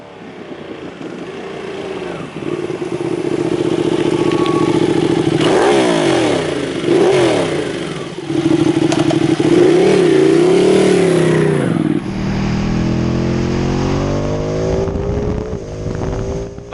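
Ducati 959 Panigale Corse motorcycle with an Akrapovic dual exhaust, its engine revving and accelerating loudly through several gear changes, with wind rush, shifting to a steadier drone toward the end.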